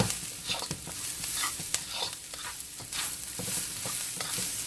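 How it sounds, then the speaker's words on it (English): Turkey egg roll filling, seasoned with black pepper, sautés in a pan with a soft steady sizzle and intermittent scraping stirs, fairly quiet and close with no talk. "Hear that sauteing?"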